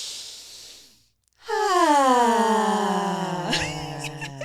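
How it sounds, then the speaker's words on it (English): A person takes a deep, slow breath in, then a long audible exhale like a sigh, close and clear with no talking, during a guided relaxation moment. "So let's just take a few deep breaths."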